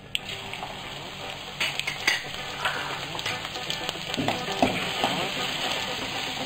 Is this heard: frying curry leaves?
yes